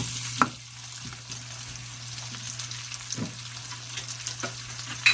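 Shrimp or prawns frying over high heat, a steady close sizzle with occasional stirring clatters and no one talking.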